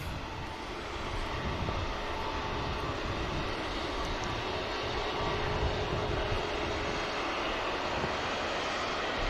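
A Lufthansa airliner taxis at Manchester Airport, its engines a steady, broad roar with a thin whine on top, continuous and fairly loud from a moderate distance.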